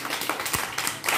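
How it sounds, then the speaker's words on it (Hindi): Group of children clapping hands in a Hindi-medium first-grade classroom, a brief burst of scattered, overlapping claps heard close and moderately loud. "सब लोग ताली बजाओ"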